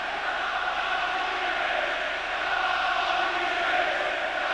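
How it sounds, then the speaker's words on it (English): Football crowd roaring at Highbury stadium during an Arsenal v Manchester United League Cup match, a steady, dense, loud wash of massed voices with no breaks or distinct peaks. "Deafening noise here at Highbury now as Arsenal come looking for that second goal."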